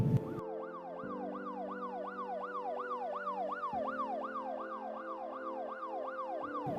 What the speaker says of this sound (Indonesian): Tiba-tiba terdengar suara sirine seperti mobil polisi.